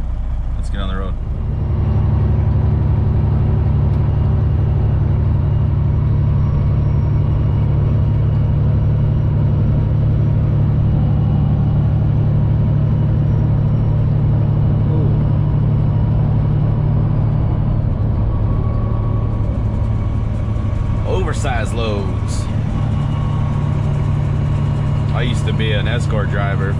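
Truck on the road, a steady low engine drone and rumble throughout, with a brief voice near the end.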